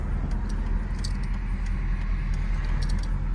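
A 2006 Mercedes SL500 on heavy chrome 20-inch wheels with Neomax coilovers rolls along, giving a steady, loud road and engine rumble with faint light rattles throughout and no talking.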